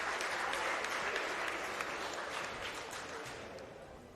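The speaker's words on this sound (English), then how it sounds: "please give a round of applause to Father Mike" An audience at an agricultural awards ceremony applauds Father Mike, a full, even wash of clapping that fades slightly toward the end, with no talking.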